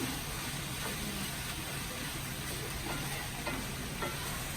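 Sausage, shrimp and vegetables cooking together in a pan give a dense, even sizzle that runs unbroken from start to finish, close up with no voices.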